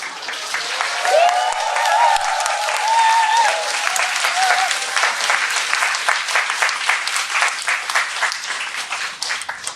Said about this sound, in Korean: 박수 치지 말아요